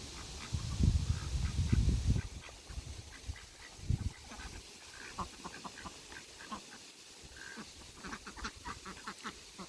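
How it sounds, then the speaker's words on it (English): Cayuga ducks, a black meat breed, quacking in a loose group outdoors, with a louder burst of low calls early on and scattered quacks and chatter continuing at moderate distance. "These ducks are mostly cayugas, which is a black meat duck."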